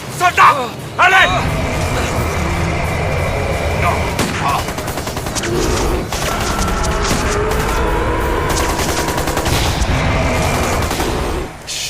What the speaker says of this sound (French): Des tirs de petit calibre.